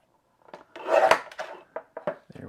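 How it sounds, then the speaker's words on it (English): A paper trimmer or blade slices strips of cardstock in a craft room, a close rasping cut swelling over about a second, followed by several short scraping slides and taps, no talking. "I'm just going to cut a couple strips from this"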